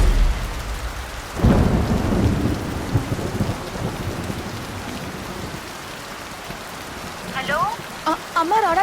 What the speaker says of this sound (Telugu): ఇక్కడ బాగా వర్షం పడుతుంది